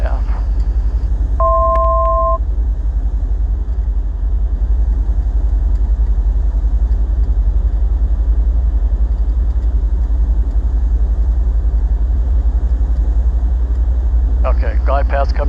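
A Bristell light aircraft's engine runs steadily at reduced RPM on approach, a loud constant low drone filling the cabin, with a brief two-tone beep early on and faint radio speech at the end.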